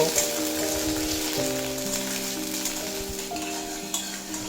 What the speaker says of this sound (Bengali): আলু লো টু মিডিয়াম ফ্লেমে দুই মিনিট মতো ভেজে নিয়েছি